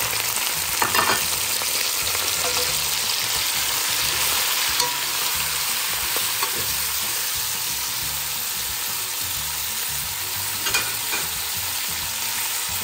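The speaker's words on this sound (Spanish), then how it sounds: "en este mismo aceite vamos a freír los bisteces que ya tenemos por aquí listos" Beef steaks frying in oil, a dense, even crackling sizzle that holds steadily throughout with only a few faint clicks.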